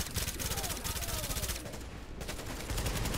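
Sustained rapid automatic gunfire from the video game The Division rattles loudly and continuously throughout, with a dense burst of shots that barely pauses, and a voice speaks briefly over it.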